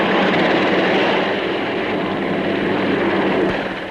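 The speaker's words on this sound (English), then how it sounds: "Both engines being synchronized, it's possible to drive the two rotors on one engine." Loud, steady broadband roar of a large twin-rotor military helicopter's engines and rotors, close and continuous with a slight fade near the end; no voices.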